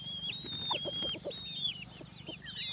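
Free-range village chickens cluck nearby in a farmyard, repeated short clucks and calls over a few seconds, with a high steady whine running underneath and no talk.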